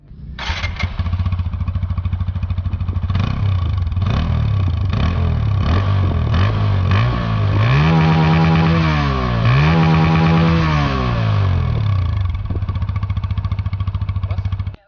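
A 2023 TVS Apache RTR 160 2v motorcycle engine starts and idles steadily, with two blips of revving in the middle before settling back to a near, even idle and cutting off at the end.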